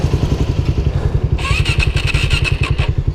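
A 2014 Suzuki DRZ400SM motorcycle cranks over without catching, a steady rapid mechanical chugging close by, with a brief higher whine joining partway through.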